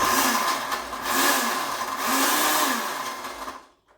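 A blender mixing a banana cocktail whirs loudly in three short bursts, its motor revving up and easing off in a pulsing rhythm before cutting out.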